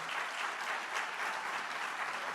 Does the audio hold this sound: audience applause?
yes